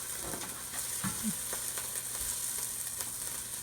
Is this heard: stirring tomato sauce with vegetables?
yes